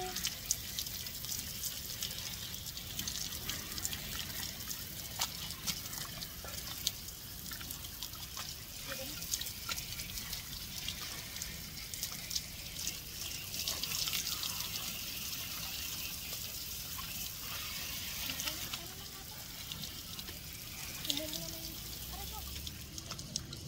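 An outdoor spring shower at Barak Beach in Zhubei, Taiwan, runs in a steady trickling splash of water for a long stretch, with scattered voices talking nearby in the background.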